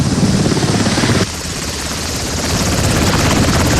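A helicopter runs loud and steady throughout during a disaster relief drill, ferrying injured people, its engine and rotor wash constant, with a brief dip in level partway through before it builds again.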